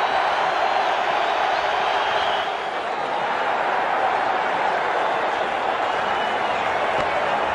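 Steady, dense roar of a cricket stadium crowd in the World Cricket Championship 2 video game, a broad wash of cheering that holds constant throughout.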